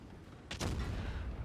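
A tank cannon fires in World of Tanks Blitz, one sharp, heavy boom followed by a low rumbling tail, standing out loudly from the quiet game background.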